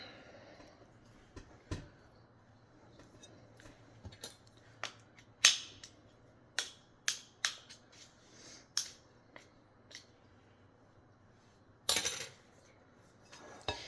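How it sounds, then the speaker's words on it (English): Bread dough being mixed by hand in a bowl to work in the flour at the bottom gives sparse, sharp clinks and taps of a utensil against the bowl over a quiet background. "Just want to make sure you get all the flour at the bottom mixed in so we can get hydrated"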